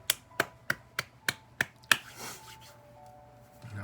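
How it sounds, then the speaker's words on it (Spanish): A church congregation claps seven times in a steady, evenly spaced rhythm, sharp and close, then the claps stop and a soft sustained tone and faint murmur linger. "Dale un aplauso ahí al Señor."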